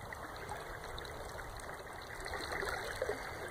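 A stream flows under a rocky bluff on a private fishing spot. The water makes a steady, close rushing and trickling wash with no break, and no one speaks.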